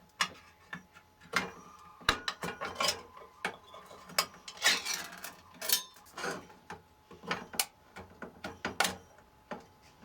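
Pop-top cans of chili and tomatoes being opened at a camp cooking setup, with irregular metallic clicks, scrapes and tearing lid sounds coming in uneven bursts, close by and moderately quiet.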